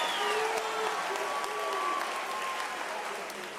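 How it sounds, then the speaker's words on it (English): A graduation audience at a university autumn ceremony breaks into sustained applause, dense and steady throughout with faint voices and a few whistles mixed in, fading slightly toward the end. "Give yourselves a round of applause."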